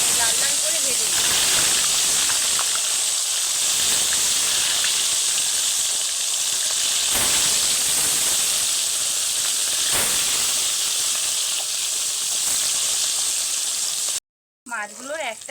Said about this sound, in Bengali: তেলটা ভালোভাবে গরম হয়ে গেছে, একে একে মাছগুলো লাল লাল করে ভেজে নিই।